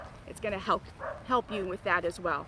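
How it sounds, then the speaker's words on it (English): Several sharp dog barks and yips ring out at a dog park, coming in quick bursts beneath someone speaking. "I apologize for the barking."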